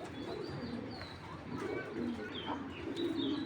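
Racer pigeons cooing softly in a loft, low murmuring coos repeating over faint chirps and a busy background hum, fairly quiet and distant.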